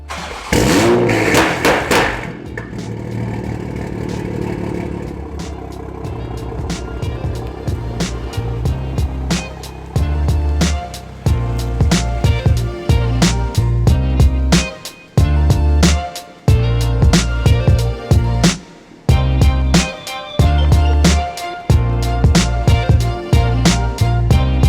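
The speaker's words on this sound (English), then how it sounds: "God, that exhaust is beautiful." A 600-horsepower BMW F30 335i with an aftermarket exhaust and open valves, starting with a loud burst and then idling before a series of sharp, loud revs with abrupt cutoffs, heard close without talk.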